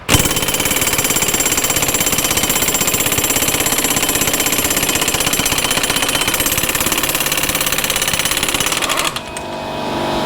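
Air impact wrench on an Odes Dominator 1000cc X4 LT ATV rear axle, fed by a small portable compressor, hammers loudly and continuously for about nine seconds, then cuts off and leaves a fainter hiss.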